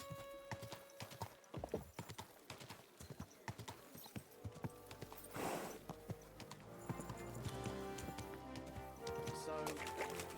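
Horse hooves clip-clop at a steady walking pace in the medieval game Kingdom Come: Deliverance 2, layered with ambient outdoor game audio, birds, and a swelling music score.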